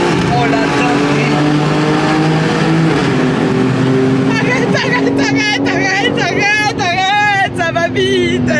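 A 912 hp BMW M3 accelerates hard inside a tunnel, its engine roaring loud and close with rising, echoing pitch sweeps as it pulls through the gears, while excited voices talk over it.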